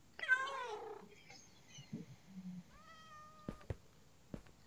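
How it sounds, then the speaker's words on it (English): Cats in the Minecraft video game meow, with one clear drawn-out call at the start and softer mews and clicks following, quiet and sparse. "It's so hard to tame cats"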